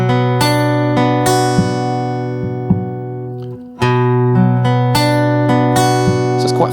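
Electric-sounding guitar chords strummed in a steady rhythm, ringing sustained strokes with a short pause midway before resuming, loud and alone without talk.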